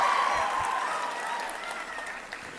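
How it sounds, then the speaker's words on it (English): An audience claps and applauds continuously at a speech, a steady wash of many hands that starts full and eases off slightly over a couple of seconds, with no voice on top. "please give me claps for this new word that I've taught Yale"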